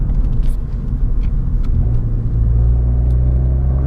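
A 2014 Ford Focus ST, modified, drives with a steady low engine rumble and road noise inside the cabin, the drone deepening slightly partway through.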